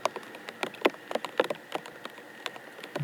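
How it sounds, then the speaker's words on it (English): Rain pattering steadily and getting heavier on an outdoor golf course, with scattered soft drops and taps spread through the moment, faint and fairly close, no voices. "It sounds like the rain's coming down a little bit harder here as well."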